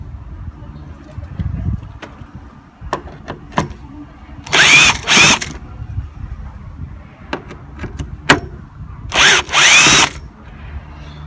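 A power drill with a TX30 Torx bit removes bolts through a Ford Fiesta Mk6 grille, whirring in short bursts, two pairs of loud spins separated by clicks and clunks of tools being handled.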